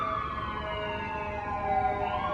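A wailing siren rises and falls steadily, continuous and moderately loud, with no voices over it.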